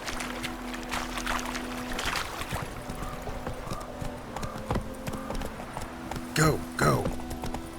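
Horse hooves clip-clopping at a run in The Witcher 3 video game, a quick rhythmic patter of steps under a voice speaking briefly, with a couple of louder thuds near the end.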